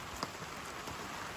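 Light drizzle patters on a camping tarp, a faint, steady hiss of fine raindrops with a few soft, slightly louder taps close by, and no voices.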